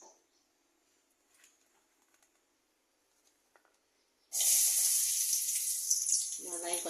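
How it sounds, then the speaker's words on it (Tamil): Onions dropped into hot oil for a Sankara fish podimas erupt into a loud, steady sizzle after a few seconds of near silence, the frying hiss continuing close up to the end. "எண்ணெய் காஞ்ச உடனே வெங்காயத்தை போட்டு பொரிச்சிடலாம்"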